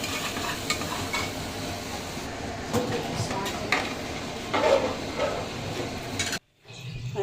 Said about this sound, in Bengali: এবার মটরগুলো দিয়ে দেবো।